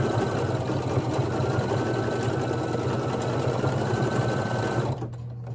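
A Brother 1600E embroidery machine stitches a key fob, running as a fast, steady mechanical whir with a rapid needle rhythm close by, then stopping abruptly near the end, leaving a quieter hum.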